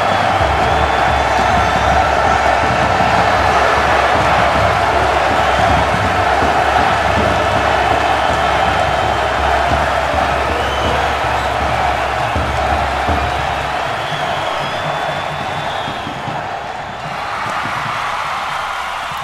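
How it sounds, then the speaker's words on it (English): A live indoor wrestling crowd at a main event keeps up a dense, continuous roar of cheering and applause, loud and sustained before easing slightly near the end. "This crowd firmly on that man's side right there"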